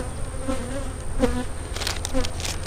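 Honey bees at an open, honey-bound hive make a dense, continuous buzz close by, with a few brief louder passes of individual bees standing out over the steady hum.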